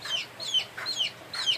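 A bantam chicken clucks four times in quick, short bursts, close and clear over quiet surroundings.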